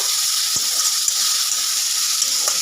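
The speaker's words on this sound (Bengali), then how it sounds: "এবার আমি আলুটা ভাজা দিয়ে দিলাম আলুটা এবার আমি একটু মিশিয়ে নেবো" Fried potatoes stirred in a frying pan with cabbage curry spices: a continuous close sizzle broken by a few soft scrapes and knocks of the spatula against the pan.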